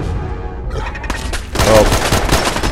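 A burst of rapid gunfire erupts midway in a Fallout 4 survival firefight, loud and close after a quieter opening, with a brief voice underneath.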